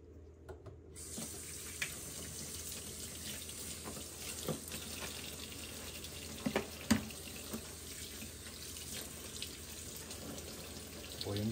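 Running tap water pours steadily into a sink while green-shell mussels are washed, with occasional clinks and knocks of shells against one another over the continuous splashing.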